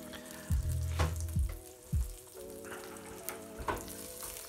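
Hotdogs frying in a pan, a steady crackling sizzle broken by a few louder bursts and clatters as they are moved or stirred, close and clear.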